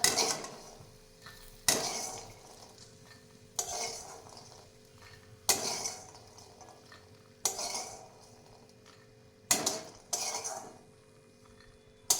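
Fried fox nuts (makhana) being scooped out of a kadai, heard as six or seven evenly spaced scraping clinks of a spatula against the pan, close and moderately loud, with a low hiss between strokes and no voices.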